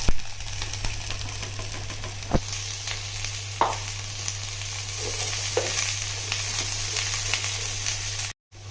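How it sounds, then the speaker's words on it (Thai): Onions stir-frying in melted butter in a pan for Japanese curry rice, a continuous close sizzle with occasional stirring clicks and scrapes, steady and unbroken, with no voices. "ตอนนี้เราก็ได้ใส่เนยนะครับ ก็เดี๋ยวเราจะเอาหอมใหญ่นะครับ ลงไปผัดนะครับ"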